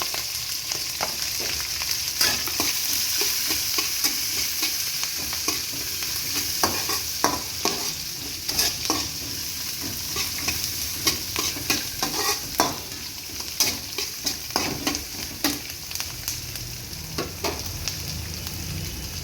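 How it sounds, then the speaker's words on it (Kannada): Green chillies and onion frying in oil in a pan, a steady hissing sizzle with irregular ladle scrapes and clicks that grow busier toward the end, close up with no talk. "ಈಗ ಹಸಿಮೆಣಸಿಕಾಯಿ, ಈರುಳ್ಳಿ ಫ್ರೈ ಮಾಡ್ಕೊತೀನಿ"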